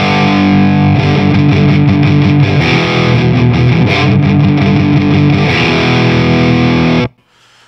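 Electric guitar through a Boss PS-6 Harmonist pedal adding a harmony a fifth above: loud, thick sustained chords with a distorted, effected edge ringing for about seven seconds, then cutting off abruptly, with no talk.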